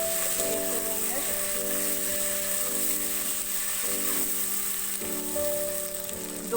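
Potatoes fry in a pan with garlic ginger paste, a continuous soft sizzle with a faint hum running evenly underneath, close and moderately loud throughout.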